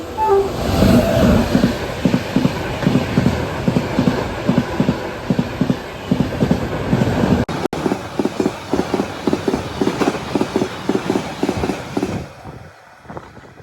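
Train running on rails near Surendranagar, with loud steady rhythmic clickety-clack of wheels over track joints that slows and fades near the end.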